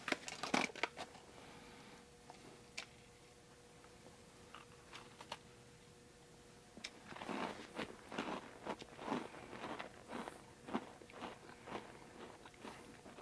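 Close, crisp crunching of a buttery pizza cracker from a pepperoni pizza MRE: a few bites, a quiet pause, then a steady run of crunchy chewing.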